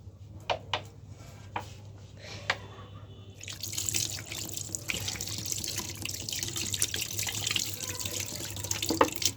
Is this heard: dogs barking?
no